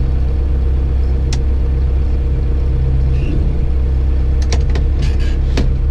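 A vehicle engine idles with a steady low rumble, holding close and even as it is shifted into gear, with a few brief sharp clicks and knocks from the cab over the drone.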